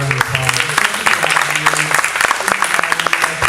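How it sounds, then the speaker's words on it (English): Audience applause for a singer at a live performance evening, a short burst of close, dense clapping with voices and a few whoops threaded through it. "Give her one more round of applause"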